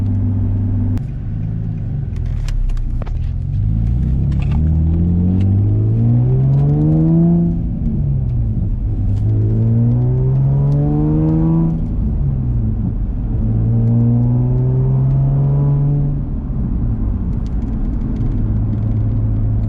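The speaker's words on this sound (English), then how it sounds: "that was a little pull from the stop sign. Got up to about 35-40 miles an hour, shifting at 3 grand" Nissan 350z with a straight pipe exhaust accelerating from a stop sign to about 35-40 mph, shifting at 3,000 rpm: a loud, deep engine drone rising in pitch through several gear changes, recorded close from inside.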